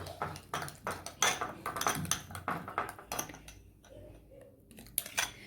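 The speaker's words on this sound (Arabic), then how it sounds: "وهحط كمان معلقة من النشا اهي، ونقلب بقى كويس جدا" A spoon clinks and scrapes against a bowl while a spoonful of starch is stirred into a homemade face-mask mixture, with repeated close, light metallic taps and chinks in an uneven rhythm.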